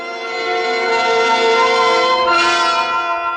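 A bell rings in an old-time radio detective drama, a sustained, loud, resonant tone with many ringing overtones that holds steady for several seconds without any talk over it.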